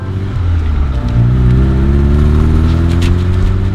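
A 1961 Alfa Romeo Giulietta Spider engine revs up and accelerates hard, loud and close, its deep growl rising steadily in pitch over a few seconds.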